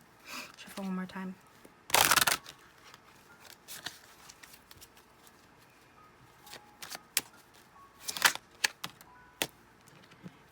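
Tarot cards shuffle in several brief, crisp riffling bursts, one loud flurry followed by quieter, scattered flicks and taps, with a voice speaking softly at the start.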